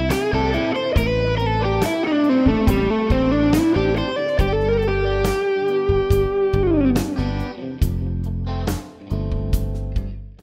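Electric guitar with distortion and effects plays a fast blues lick at full speed, with string bends, slides and punchy picked notes, loud and close with no voices.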